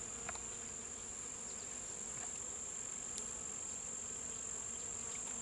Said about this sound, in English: These water plants, I wish I knew their name, are absolutely buzzing with bees.